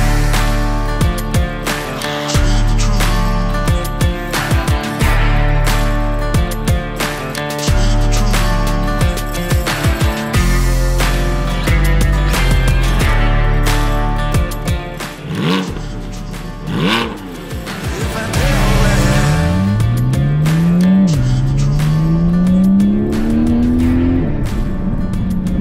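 A Porsche 718 GT4 fitted with over-axle exhaust pipes and no gas particulate filter revs loudly and repeatedly nearby, its engine notes rising and falling, then it accelerates hard in a long climbing pull.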